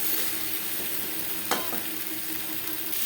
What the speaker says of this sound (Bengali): আলু পটলের সাথে জিরের গুঁড়ো বেশ ভালো করে মিক্স করে দেবো।